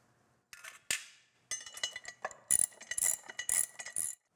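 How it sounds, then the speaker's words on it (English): Nuts being tightened on the metal base of a pivoting upright post, heard as a series of close, sharp ratcheting clicks and metallic clinks in short irregular bursts. "We're going to tighten these down in a cross pattern."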